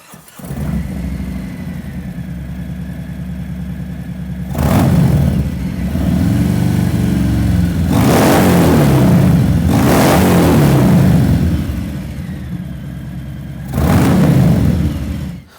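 A Harley-Davidson Milwaukee 8 Fat Bob with an S&S muffler idles with a deep, close rumble, broken by several loud throttle blips and revs that rise and fall back to idle.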